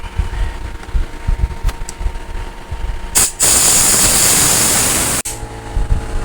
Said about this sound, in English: we're going to spray a little brake clean down in there